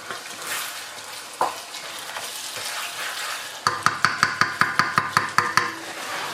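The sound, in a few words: king prawns (shrimp) frying in a pan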